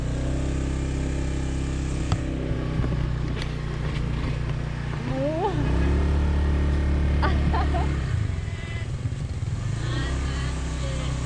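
A rented scooter rides along a road in Bali, its engine droning steadily and close throughout with shifting pitch, over road and wind noise, and a voice speaks briefly.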